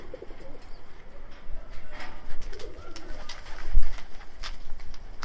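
Egyptian posta dönek pigeons cooing inside their coop, a steady stream of soft, repeated coos and some chirps, fairly close and clear with no talking over them.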